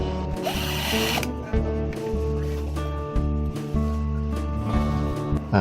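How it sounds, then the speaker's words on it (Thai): A drill whirs continuously close by, its motor pitch dipping and surging in short bursts as it bites through a brass rivet on an old ceiling fan switch. "ใช้สว่านนะฮะ เจาะเพื่อเอาตาไก่อัดทองเหลืองอที่มันยึดนะฮะ"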